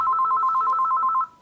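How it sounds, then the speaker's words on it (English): A telephone rings at the Wayne County Museum, a rapid electronic trill held for just over a second before cutting off, clear and close with no voices. "phone rings a little more often these days"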